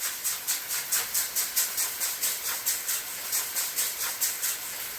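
Pork slices sizzling as they brown in a hot pan, a steady bright hiss pulsing in quick regular surges, close and fairly loud with no talk over it.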